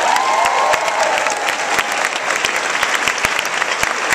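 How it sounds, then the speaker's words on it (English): A convention crowd at a women's caucus breaks into loud, sustained applause for Debbie Wasserman-Schultz, dense clapping with sharp individual claps standing out close by and a faint whistle early on. "Round of applause for Debbie Wasserman-Schultz."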